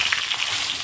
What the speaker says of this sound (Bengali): আলুটা দিয়ে দিচ্ছি, আলুটা হালকা ভেজে নেবো